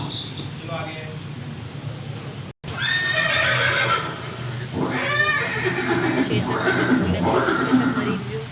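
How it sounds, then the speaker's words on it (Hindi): A horse neighs and whinnies loudly in a museum display of Chetak, the horse of Maharana Pratap at Haldighati, with repeated drawn-out calls and hoof clip-clop over a steady room hum, after a brief dropout near the start. "ये दृश्य महाराणा प्रताप और सुविख्यात स्वामी भक्त घोड़े चेतक के अंतिम मिलन का है।"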